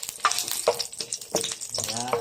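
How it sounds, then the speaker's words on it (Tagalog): Ginger sautés in hot oil, crackling and sizzling in short bursts as it is stirred, close and fairly quiet. "Mag-saute na tayo. Lagyan na tayo ng oil."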